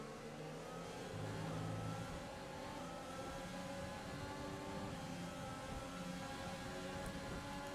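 Formula 1 engines scream continuously in an F1 2020 video game race, a dense, loud, steady high-pitched whine of several cars close together with no talk.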